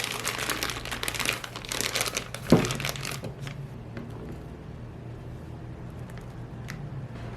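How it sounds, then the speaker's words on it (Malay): A plastic piping bag for a no-bake eggless tiramisu crinkles as it is handled, a close burst of crackling during the first three seconds, then quiet rustles and a low hum. "Dan juga piping bag ataupun boleh je kalau nak pakai plastik bag macam ni."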